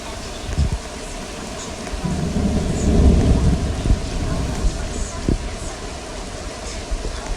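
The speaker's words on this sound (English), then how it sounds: "Oh no, it's raining." Steady rain falls with a deep, rolling thunder rumble that swells in the middle and then recedes, and a few faint knocks sound over the wet hiss.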